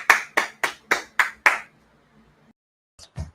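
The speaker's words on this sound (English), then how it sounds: "Wow, clap it up." Six sharp claps in an even rhythm at a class dismissal, loud and close, then a pause before a brief voice at the very end.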